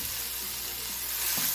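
Ginger garlic paste sizzles while frying in a pan. A steady, close hiss runs throughout with faint stirring scrapes.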